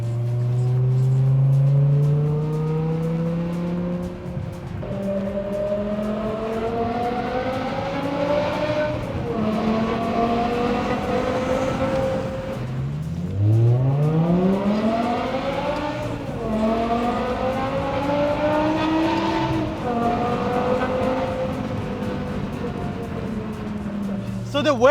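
A 2006 BMW M6 E63 engine revs hard and climbs in pitch through repeated gear shifts, dropping and rising again, loud and close throughout.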